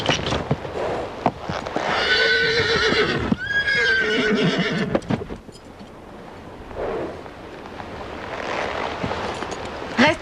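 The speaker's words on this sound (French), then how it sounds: "Un cheval, ici, au refuge." A horse whinnies twice in long, loud, wavering calls, with hooves clip-clopping around them, then quieter shuffling and a fainter neigh follow, close by at a refuge.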